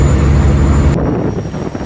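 A motorcycle engine running close by as a steady low drone, with a harsh upper layer that cuts off abruptly halfway through and leaves a rumbling engine beneath.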